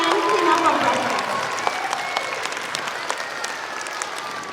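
School audience applause at an elementary assembly honoring a class, a broad crowd clapping that starts strong and gradually thins, with a few sharper individual claps standing out and faint voices underneath.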